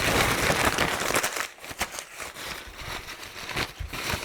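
Printed white paper crumpled by hand to form model train layout mountains, close-up irregular crinkling and crackling, loud at first then in sporadic rustles.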